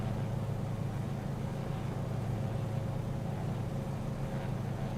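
Twin aircraft engines running together in a flight simulator game, a steady unbroken drone with a low hum and a constant tonal whine. It stays at an even, moderate level throughout.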